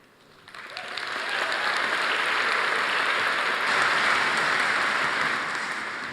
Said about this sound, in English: You don't normally get an applause before you even started.